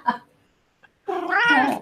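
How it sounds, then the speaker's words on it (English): Cat meowing: a short chirp, a pause, then a loud, drawn-out, wavering yowl close by, with no talking over it. "It sounds like the cat agrees quite vigorously."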